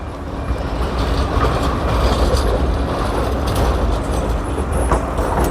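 A Pesa tram rolls past on city rails in Sofia, producing a steady loud rumble with rattling wheels and faint squeals throughout, close by and unbroken.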